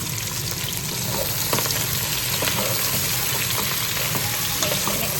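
Shrimp and vegetables fry in an oiled pan with a steady, close sizzle and crackle, punctuated by light scrapes and clinks of stirring throughout.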